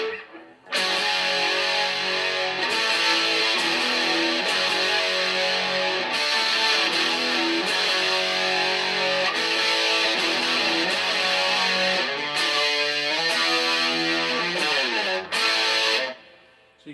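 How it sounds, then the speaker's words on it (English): Electric guitar through an Orange Crush Pro 60 amp with a DS1 distortion pedal and TC Electronic delay, playing loud, sustained distorted chords and riffs with echo trails for about fifteen seconds before cutting off. "That's the DS1 distortion with the TC Electronics delay on it."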